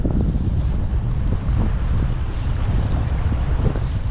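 A strong storm wind blows at a lake in Australia during heavy rain, a loud, continuous low roar and buffeting with no other distinct sounds.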